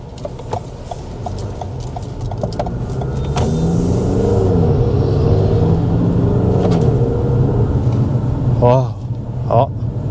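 Toyota RAV4 2020 in eco mode accelerating, a steady engine rumble rising in pitch and swelling heard from inside the cabin, with brief voices near the end.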